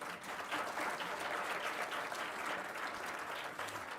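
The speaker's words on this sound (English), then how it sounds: "Whatever you like in my entire presentation, you can bindas clap." Steady audience applause fills the room at a school of pharmacy induction program, a dense wash of many hands clapping at even volume throughout, with no voices standing out.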